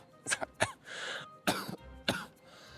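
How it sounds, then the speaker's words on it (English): A bout of harsh, close coughing: several rough coughs in quick succession, separated by short raspy breaths, with no talking. "I could not stop coughing and coughing and coughing."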